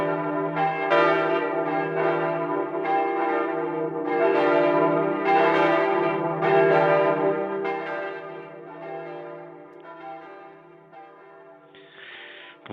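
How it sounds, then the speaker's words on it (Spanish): Parish church bells in Spain ring steadily and loudly at the same time across dozens of villages, several bells overlapping in a rich continuous peal with no voices. "los obispos y también las diferentes comunidades parroquiales han hecho sonar las campanas."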